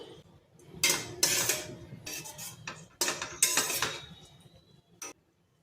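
A spoon clinks and scrapes against a bowl in bursts as sev khamani is tossed with coriander, a few clusters of clattering strokes with short pauses between them, close and fairly quiet.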